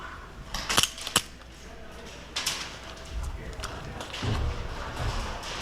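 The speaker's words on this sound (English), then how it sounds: "So here I'm trying to change my magazine in my pistol" Airsoft pistol magazine being changed during a city milsim match, a few sharp close clicks and clacks followed by softer thumps and handling noise against quiet outdoor background.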